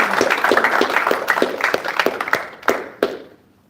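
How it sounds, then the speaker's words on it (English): An audience claps for event organizers at a talk, a burst of many hands that holds strong for a few seconds and then thins into a handful of scattered final claps. "So give them an"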